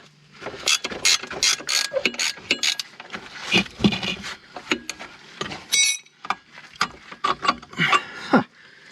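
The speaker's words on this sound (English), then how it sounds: "Let's see if I can get that bolt out." A ratchet wrench works a bolt loose from the rear suspension of a 1988 Thunderbird, close and loud, with quick bursts of clicking strokes separated by short pauses, plus occasional metallic clinks.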